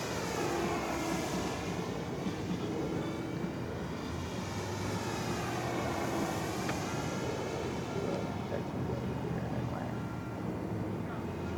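An FMS Mitsubishi A6M3 Zero 1400mm RC model warbird flies past with a steady, fairly loud electric motor and propeller drone that holds evenly throughout, with no voices heard.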